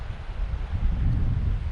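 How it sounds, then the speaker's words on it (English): Wind buffets the microphone on an open fell in the Southern Uplands of Scotland, a loud continuous low rumble with gusting swells and no voices. "It's quite windy"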